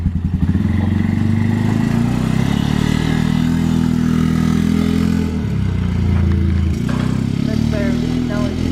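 A new Can-Am Outlander 450 ATV engine runs loud and close, a steady rumbling idle that dips briefly before picking up again, while people talk over it.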